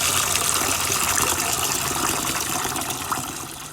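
Tap water gushes steadily while lentils are washed in preparation for a lentil stew, a bright close-up hiss and splash that runs continuously and eases slightly toward the end.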